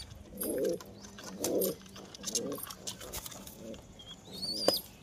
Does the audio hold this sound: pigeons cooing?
yes